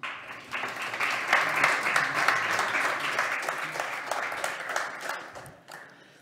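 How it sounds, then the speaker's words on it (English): Audience applause at a startup demo day welcoming the next presenting team, a steady wash of many hands clapping that holds at moderate level and tapers off toward the end. "Please have a big applause for our next team, Fast AI Movies."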